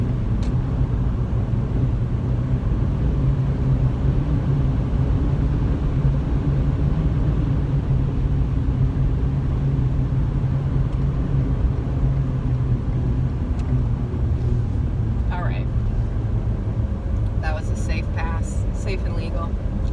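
Steady road and engine rumble from a car on the highway, with a passing maneuver on the left, heard from inside the cabin. The drone is continuous and fairly loud, with brief faint rattles near the end and no talking.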